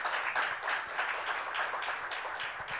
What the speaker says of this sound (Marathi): अनन्यासाठी पुन्हा एकदा जोरदार टाळ्या झाल्या पाहिजे.